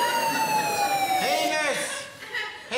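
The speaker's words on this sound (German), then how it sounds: "die meldet sich die Sirene, wenn die Temperatur fällt" A steady electronic siren tone with a slight downward pitch drift sounds continuously, with chatter and voices in the background; a temperature alarm siren, a false alarm.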